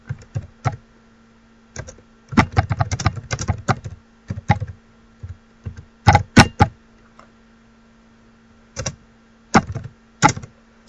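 Subtitle text is typed on a computer keyboard in scattered bursts of close, crisp keystrokes, with pauses between the clusters and no talking.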